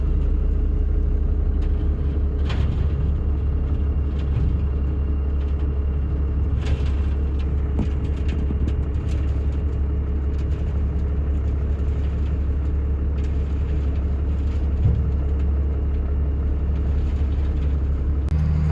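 Heavy diesel loader engine idling and rumbling steadily nearby while moving gravel around a Cummins dump truck, a constant low drone with occasional clanks and no talk.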